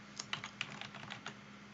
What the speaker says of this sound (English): In the search box here, you can just start typing and it will filter it